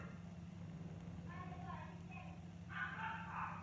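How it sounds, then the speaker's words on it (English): A dog barks indoors in the background of a home, with two short bursts of yelping barks fairly far off beneath a steady low hum. "The dog's barking, I think he's joining in."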